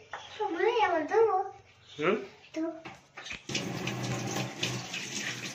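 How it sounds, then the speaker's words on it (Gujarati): Someone speaks in short phrases, then a tap opens and water runs steadily and fairly loud, splashing continuously. "નળ ચાલુ કરીને ધોઈ નાખ।"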